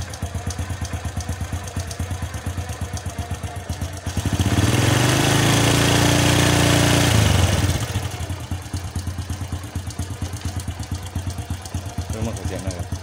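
A motorcycle-type engine chugs at a rhythmic idle, then the electric starter cranks and a louder, smoother run takes over for a few seconds before it drops back to the ticking idle, recorded during a battery test with someone speaking nearby.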